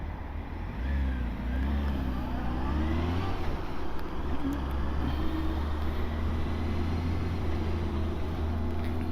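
A Honda CBR900RR motorcycle out on the road, its engine a steady, loud drone with a rising and falling pitch as it is ridden along, wind noise mixed in and no voices.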